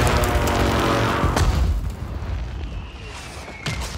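Mortar strikes in the video game Warzone 3 boom loudly up close, a dense rumbling burst dominating the first two seconds, then fading into a lower rolling tail with a smaller thump near the end.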